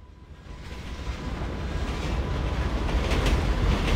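A train rolls past in GTA 5, a steady rumbling roar that swells gradually louder over a few seconds, with no voices.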